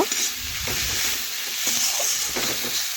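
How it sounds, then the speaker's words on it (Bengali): A thick, continuous sizzle of tomatoes sautéing with turmeric and chili powder for a Bengali fish-head dish, with soft scraping stirs underneath and no talking. "এইভাবে নাড়াচাড়া করে একটু কষে নিচ্ছি"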